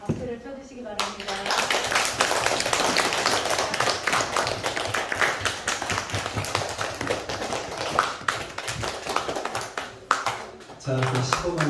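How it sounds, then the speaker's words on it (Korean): Audience at a church scholarship presentation clapping continuously, dense sustained applause filling the room for most of the stretch, with a voice speaking briefly at the start and end. "박수를 쳐주시기 바랍니다."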